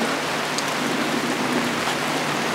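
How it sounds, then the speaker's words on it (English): Steady rain falls at an outdoor memorial ceremony for The Moving Wall, a continuous even hiss of drops on surfaces with no voices, loud and close throughout. "Since it's raining"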